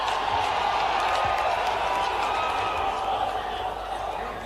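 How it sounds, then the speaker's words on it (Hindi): A large rally crowd breaks into dense, sustained applause, loud clapping with some cheering mixed in, holding steady and easing slightly toward the end. "आपकी जोरदार तालियों के साथ"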